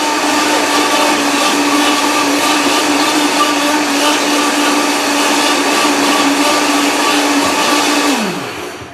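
A blender whirring loud and steady at close range as it purées cornmeal and banana for porridge, a constant motor drone that winds down and cuts off at the end.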